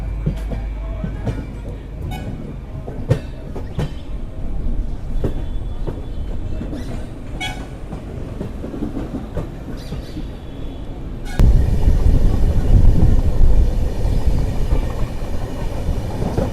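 A Kolkata–Sairang passenger train leaving Krishnanagar rumbles along with steady clattering wheels, heard from on board; the roar suddenly grows louder and fuller partway through, with faint voices now and then.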